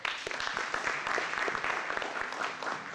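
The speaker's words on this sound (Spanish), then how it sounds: "Denle un aplauso al Señor." A church congregation claps together in dense, continuous applause, steady and moderately loud for a few seconds, with no voices standing out.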